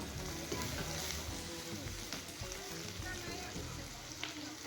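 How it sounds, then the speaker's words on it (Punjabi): Finely chopped tomatoes fry in a tadka for whole moong dal, a soft continuous sizzle with faint stirring, fairly quiet and close, with a voice talking over it. "ਇਹਦੇ ਵਿੱਚ ਆਪਾਂ ਬਰੀਕ ਕੱਟੇ ਹੋਏ ਟਮਾਟਰ ਪਾਵਾਂਗੇ ਤੇ ਉਹਨਾਂ ਨੂੰ ਵੀ ਚੰਗੀ ਤਰ੍ਹਾਂ ਭੁੰਨ ਲਵਾਂਗੇ"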